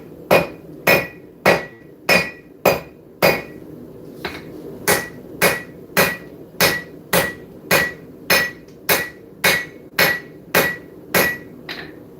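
A blacksmith's hammer strikes hot steel on the anvil in a steady, loud rhythm, about twenty sharp ringing blows evenly spaced with a short pause midway, close up in a forge shop.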